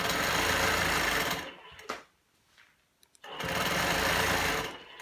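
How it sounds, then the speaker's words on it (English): A longarm sewing machine stitches a quarter-inch binding seam on a mini quilt, a loud, steady close-up whir with a rapid needle pulse that stops for about a second and a half, then starts up again. "now I'm just going to keep sewing a 1/4 inch seam allowance across the horizontal of this"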